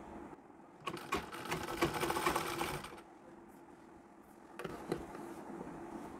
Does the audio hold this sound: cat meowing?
no